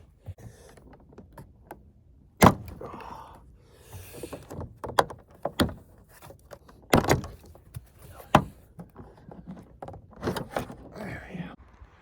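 Several sharp pops and snaps of plastic clips releasing from a Saab 9-3 Turbo X door panel as it is pried off, irregular and close, with scraping and faint talk between.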